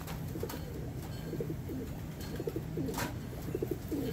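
Soft, repeated cooing of a tippler pigeon, low throaty phrases recurring every second or so against a steady background hum, close and moderately quiet.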